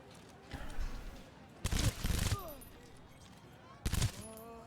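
Bursts of gunfire from a gun in the video game Cyberpunk 2077, arriving as three separate volleys: two longer rattling bursts close together, then a short one after a pause, loud over a quieter game background.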